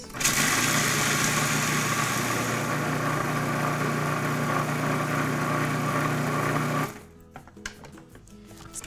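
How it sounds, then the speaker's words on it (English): A food processor blends a vegan pumpkin pie crust with pink Himalayan salt, a loud steady motor whir running for about seven seconds before cutting off into quiet clatter. "Let's close up the food processor now, and let's give it a good blend."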